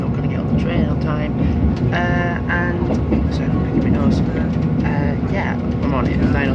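Inside a moving passenger train, a steady low rumble and rattle of the carriage runs throughout while a person talks over it.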